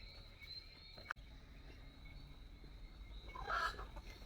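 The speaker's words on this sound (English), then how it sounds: "You hear the chickens in the background?" Chickens cluck faintly in the distance against a quiet outdoor hum along Harrington Sound Road near Bay Haven, with one brief, sharper cackle near the end and a single sharp click earlier.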